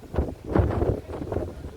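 Strong desert wind at Laguna Colorada in Chile buffets the microphone with heavy low rumbling gusts that swell and ease continuously, close and loud, with no voices.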